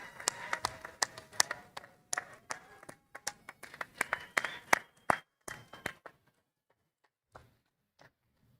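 Graduates applauding their families at a commencement ceremony, scattered distinct claps that thin out and stop after about six seconds, leaving near silence with a couple of stray sounds.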